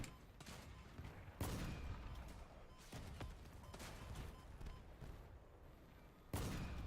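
Sharp gunshots ring out in a video game, single spaced blasts at irregular intervals of a second or more, each followed by a short decay under a faint background.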